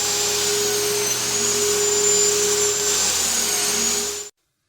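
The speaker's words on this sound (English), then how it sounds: "But now I'm going to go ahead and rip these down to their final width," A table saw rips wooden boards down to a five-inch width for a phone stand, giving a loud, steady whine with a constant motor hum that holds for about four seconds and then cuts off abruptly.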